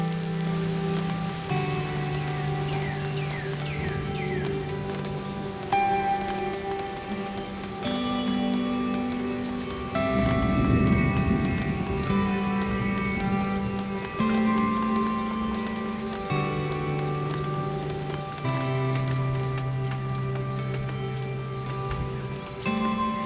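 Heavy rain patters steadily on a surface beside a mountain brook, a dense hiss of drops with a sustained musical tone layered over it.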